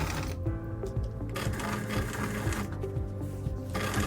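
Electric sewing machine edge stitching along the bottom of a skirt casing, a fast rhythmic mechanical whir with regular needle clatter that slows briefly twice before resuming.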